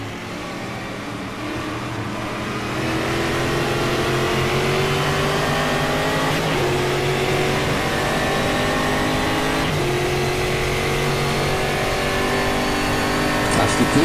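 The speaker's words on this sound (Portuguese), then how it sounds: "Tava alto o motor aqui." Stock car engine in the racing video game GTR Brasil, heard from an onboard view, holding a loud steady drone that rises through gears with brief shifts, while commentators talk over it.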